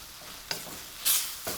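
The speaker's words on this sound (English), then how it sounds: "doesn't it sizzle nice?" Chinese eggplant sizzles steadily in a hot pan, with a couple of brief scraping stirs and a louder hissing flare partway through.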